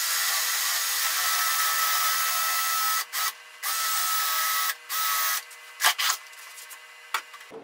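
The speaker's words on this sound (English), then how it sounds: "taking my drill bit, my 5/16 inch drill bit, and just running it through the hole that I already have drilled into this other piece" A 5/16 inch drill bit runs through an existing hole in a piece of wood, giving a steady, close grinding whir that stops and restarts in several short bursts toward the end.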